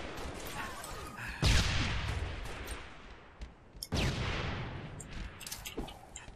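Gunfire in Halo multiplayer, two sharp loud bursts of shots with decaying blasts, separated by quieter stretches of scattered game noise.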